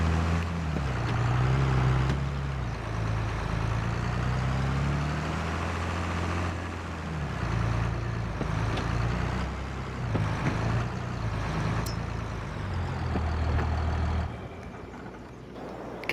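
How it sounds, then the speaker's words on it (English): A tractor engine in Farming Simulator 22 drones at low revs on a cornfield with a mulch tiller, a steady humming rumble that swells and dips as the machine moves, no talk. "This is not the best tractor to use for this stuff."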